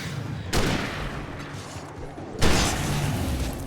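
Rifle fire in the video game Alan Wake Remastered: two loud, booming shots about two seconds apart, each with a long rumbling tail.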